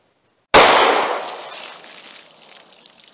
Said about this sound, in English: first jug just exploded